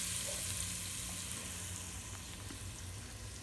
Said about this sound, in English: John is going to add the meat, and he's going to stir and cook the meat for me